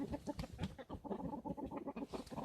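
Hens cluck and squabble in a backyard flock, ganging up on a rooster, with a steady run of short, close clucks and squawks from several birds overlapping throughout.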